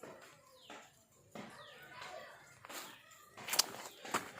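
A house cat meowing several times up close in short, faint, rising calls, with other small sounds in the background.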